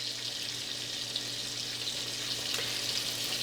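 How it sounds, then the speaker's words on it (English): A sunny side up egg fries in a pan with added water, giving a steady, close, moderately loud sizzle that hisses evenly throughout with no voices. "we got a fairly heavy sizzling sound of the water, and all you want to do is wait till that sound dissipates a bit"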